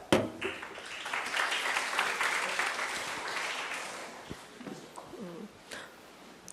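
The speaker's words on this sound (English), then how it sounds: "let's give a big applause for" Audience applause welcoming a speaker at a women's sustainability science symposium in Taichung; soft, diffuse clapping that swells, then tapers off, with faint distant sounds at the end.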